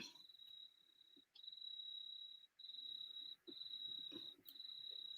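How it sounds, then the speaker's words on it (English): A cicada sings at night in a steady, shrill high buzz that drops out briefly a few times and resumes, moderately close and alone with no talk. "the cicada's singing."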